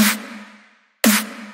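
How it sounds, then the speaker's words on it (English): Two hits of a punchy dubstep-style snare drum sample in a future bass production, each with a sharp bright crack and a tonal low body that decays over most of a second, the second hit cut short. "And I picked a nice dubsteppy snare."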